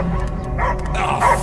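A dog barks and yips in the Guardians of the Galaxy video game, a few short, fairly close calls over a steady bed of game ambience and music.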